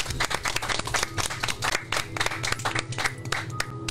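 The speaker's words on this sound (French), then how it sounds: "Et je pense qu'on peut applaudir maintenant aussi nos chroniqueurs." Studio audience applause for radio/TV show columnists, a thin cluster of separate hand claps from a small group, irregular and moderately close, with no one speaking over it.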